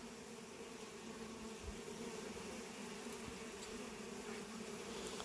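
Honey bees hum steadily around a hive, a continuous low drone with a few lower bumps and no voices, heard close and at even loudness throughout.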